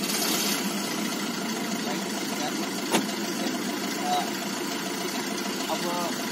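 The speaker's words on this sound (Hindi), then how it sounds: "क्लच दाब लो, क्लच दाब के स्टार्ट करो" A car engine, started with the clutch pressed, idles with a low, even rumble during a driving lesson, holding steady throughout with a couple of faint clicks and brief squeaks.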